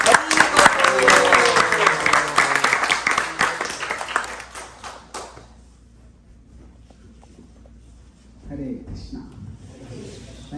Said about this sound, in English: So let's give a big round of applause and join me in welcoming Prabhu.